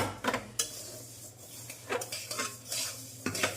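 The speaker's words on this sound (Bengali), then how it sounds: "মুগ ডাল ভাজা হচ্ছে, খিচুড়ি হবে।" Moong dal being dry-roasted in a pan for khichdi, with a utensil stirring and scraping through it in uneven bursts of clatter over a faint sizzle and a low steady hum.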